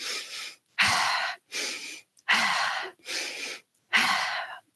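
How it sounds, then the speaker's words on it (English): Breathwork exercise of the water element: rhythmic, audible belly-and-chest breaths alternating inhale and exhale, six close, even breath sounds separated by brief silences, with no talk. "the water element is inhaling for 2 and then exhaling for 2"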